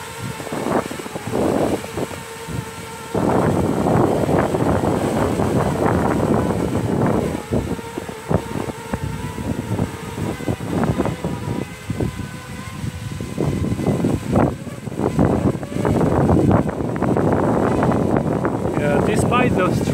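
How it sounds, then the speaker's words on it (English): Strong gusts of wind buffet the microphone during a small Feima drone demo flight, a loud rumbling roar that swells and drops over a steady motor whine, with someone talking throughout. "the wind is pretty strong."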